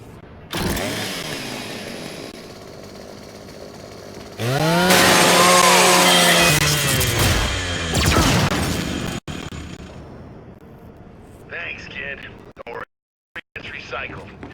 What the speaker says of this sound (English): scrap that custodial unit for me. Just use your Lancer's chainsaw.